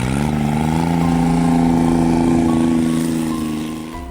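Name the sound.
turbocharged John Deere HPX diesel utility vehicle driving through snow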